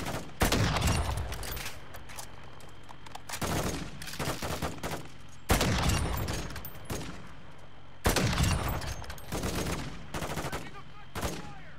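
Shooter video game firefight: several separate bursts of rapid gunfire crack out in clusters with short pauses between, and players talk quietly in between.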